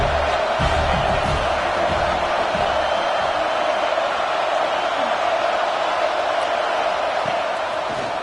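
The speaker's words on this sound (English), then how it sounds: "This crowd knows when to bring it." Stadium crowd noise from a Penn State versus USC college football video game, a steady loud roar of cheering that fills the whole stretch with no break.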